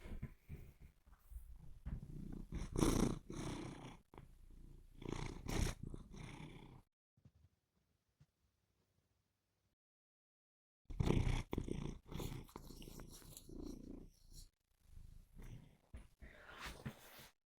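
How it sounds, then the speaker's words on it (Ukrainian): A cat purrs close to the microphone in soft rhythmic bursts, falling silent for several seconds midway before purring resumes, faint and breathy. "Я вам дам послухати, як муркотить мій котик"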